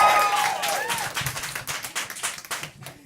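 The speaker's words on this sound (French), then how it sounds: "Ça, c'était le bout où vous devriez les applaudir." A small audience at a New France–themed dinner at an inn claps in scattered, uneven bursts that thin out toward the end, with some voices and tonal sounds at the very start.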